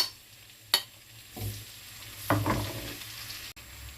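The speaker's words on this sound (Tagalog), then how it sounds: "So, ayan, magigisa na ako ng bawang at sibuyas." Garlic and onion sauté in a pan for a home-cooked sopas: a soft, steady sizzle with a few sharp clinks and scraping stirs of a utensil against the pan, close by.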